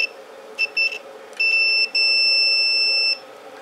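A small electronic buzzer on a continuity tester, touched against a ferrite speaker ring magnet, gives several short high-pitched beeps followed by a longer steady tone, loud and clear, with no talking.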